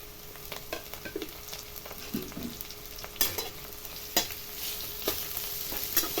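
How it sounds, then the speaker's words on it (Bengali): Grated ginger and garlic hit hot oil with fried onions and whole spices, giving a continuous sizzle with several sharp scraping and clinking stirs scattered throughout. "সামান্য ভাজা ভাজা হয়ে গেছে, এবারে দিচ্ছি আদা রসুন গ্রেট করা"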